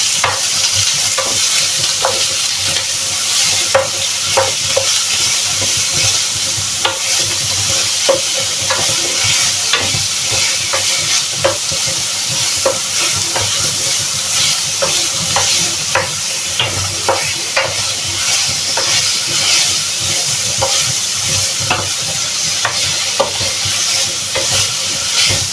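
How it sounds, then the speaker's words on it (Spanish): Close, loud sizzling of meat frying for a beef fideuà, with frequent scraping and clattering stirs in the pan, continuing steadily for a long stretch without any speech. "Ponemos nuestra carne, freímos."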